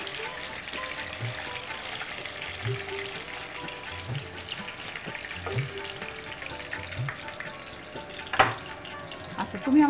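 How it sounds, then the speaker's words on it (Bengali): Pieces of rohu fish fry in hot oil with a steady, moderate sizzle. Occasional soft spoon knocks and a brief clatter punctuate it, with faint talk now and then in the background. "মাছ ভাজার সময় একটু আড়াল রেখে ভাজা ভালো, না হলে গায়ে ছিটে আসতে পারে।"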